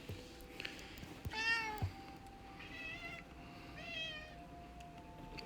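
A pet cat meows three times at close range, each call a drawn-out wavering cry, over a faint background hum.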